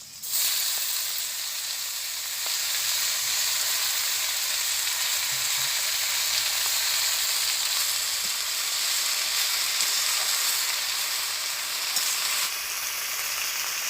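Jute leaves (pat shak) frying in a pan in a village kitchen, a dense continuous sizzle and hiss that runs evenly from start to finish with no voices.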